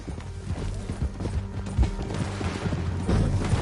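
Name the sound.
horse galloping, from the video game Red Dead Redemption 2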